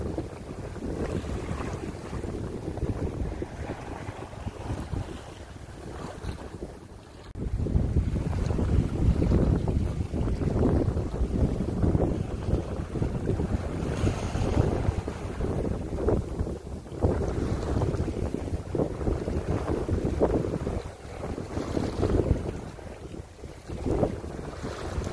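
A Compac 19 sailboat rides gusty wind and high swells, with buffeting wind noise on the microphone, rushing water and hull sloshing in uneven surges throughout, no voices.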